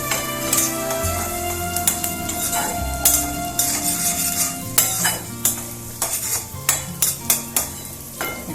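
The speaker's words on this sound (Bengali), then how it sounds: "এতগুলো কর্ন লাগবে? হ্যাঁ, একটু 2-3 মিনিট ফ্রাই করে নেবো হালকা।" Corn kernels fry lightly in a pan with a continuous sizzle under repeated scraping and stirring, and sharp utensil clinks against the pan grow more frequent toward the end.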